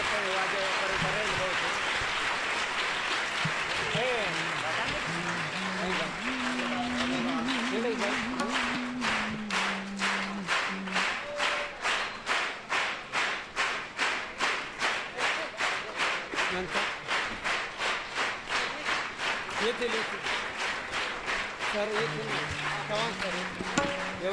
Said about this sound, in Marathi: आजच्या दिवस टाळ्या वाजवायच्या आहेत